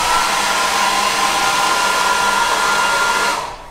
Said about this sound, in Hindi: वो हेयर ड्रायर